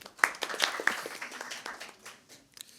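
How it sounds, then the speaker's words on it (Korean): An audience at a rice-industry forum applauds to welcome a speaker, with a short patter of scattered claps that thins out and fades within a few seconds. "박수로 맞이해 주십시오"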